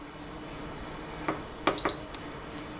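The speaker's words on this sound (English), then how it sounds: "Then we are just going to hit pressure cook on high for 6 minutes." A few short electronic button beeps ring out from a pressure cooker control panel, one after another in quick succession, the last a slightly longer clear tone, close and fairly faint over a quiet room hum.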